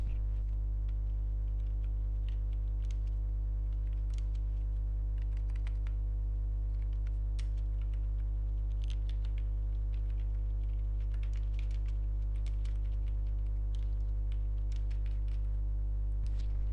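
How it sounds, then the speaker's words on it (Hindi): Rapid, light keystrokes patter irregularly on a computer keyboard as a narration is entered in Tally accounting software, set over a steady, strong electrical hum that runs under the whole passage. "अब नीचे आके आपने नरेशन टाइप करनी है।"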